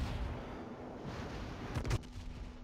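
A battleship main-gun salvo in the World of Warships naval game booms as a dull, distant-sounding low rumble with a brief louder burst near the end, over steady background noise.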